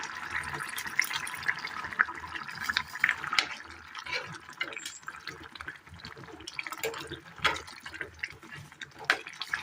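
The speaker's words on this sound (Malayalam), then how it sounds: "ഇതിലേക്ക് ഒരല്പം വാളംപുളി പിഴിഞ്ഞ വെള്ളം ചേർത്ത് കൊടുക്കാം." Tamarind water pours and trickles into a pot of Kerala curry with irregular splashes and drips, a bubbling, simmering hiss continuing throughout.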